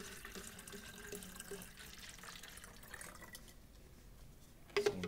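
Water poured into a pint container, a quiet steady trickle and splash of liquid filling for several seconds, with a small clink near the end.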